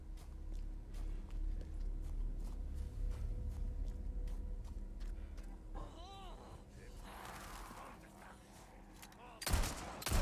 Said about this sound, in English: Just hear him shooting the enemies.